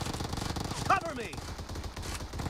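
Gunfire in the video game PUBG, rapid automatic bursts in a dense game mix, with shouted callouts and voices over the shooting.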